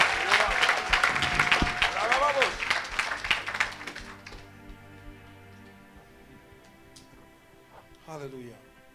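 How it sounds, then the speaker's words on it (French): A church congregation applauding and cheering for Jesus, a loud burst of dense clapping mixed with shouting voices that fades out after a few seconds and leaves quiet music and a brief voice. "acclamez pour Jésus"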